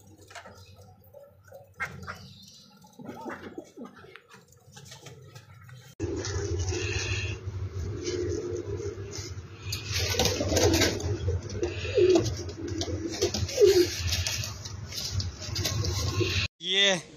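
Several pet pigeons of the Teddy breed coo in low, soft, repeated throaty calls, nearby, over a steady background hum, with faint voices early on.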